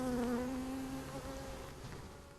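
Honeybees at a hive station buzz steadily and close, a dense humming drone with wavering tones, no voices.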